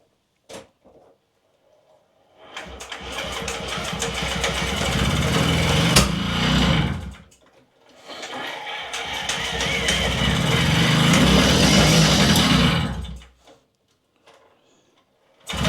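Puch Maxi moped with a freshly fitted spark plug, making two separate bursts of buzzy, high-pitched small-engine noise of about five seconds each, split by a short pause and a click, then cutting back to near silence.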